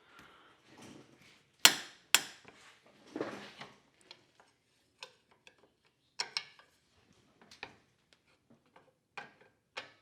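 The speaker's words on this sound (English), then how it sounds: "I have a really long wrench." A long wrench works 19mm brake caliper bolts loose on a parking brake job, giving scattered metallic clanks and clicks with two sharp loud knocks near the start and fainter taps between quiet gaps.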